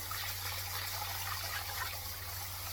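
Cold tap water gushes steadily over short-to-medium grain Australian rice being rinsed in a sink, a constant loud rush with a low hum beneath and no talking.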